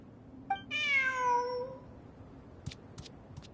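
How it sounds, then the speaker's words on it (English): A cat meows in the video game Genshin Impact on PS4: a short chirp, then one clear, drawn-out meow, followed by a few faint clicks. "Who's a good kitty?"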